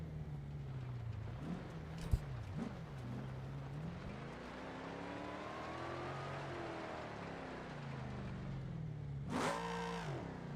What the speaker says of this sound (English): Seems to be revving now.